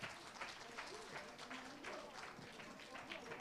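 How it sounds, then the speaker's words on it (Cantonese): An audience claps steadily at a 2024 life-insurance sales award ceremony, a continuous wash of applause with voices audible over it. "掌聲歡迎李琳琳小姐"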